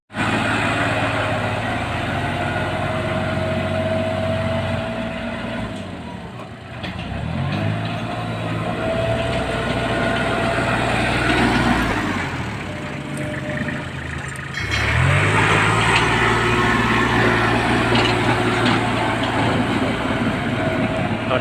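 A tractor pushes mixed chicken manure for pellet fertilizer, its diesel engine droning loud and close with steady low rumble, easing off briefly twice before revving back up with clanking and scraping.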